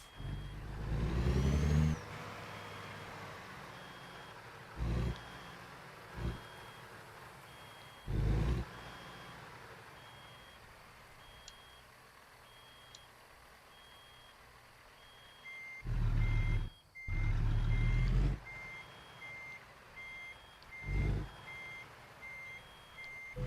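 Intermittent reversing beeps from a truck backing a trailer into a parking spot in American Truck Simulator, steady evenly spaced tones running through most of the stretch, with loud low engine bursts rising and falling between them.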